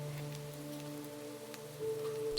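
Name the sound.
rain falling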